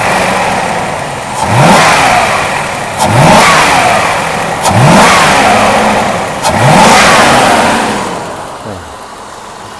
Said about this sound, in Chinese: V8 的嘶吼。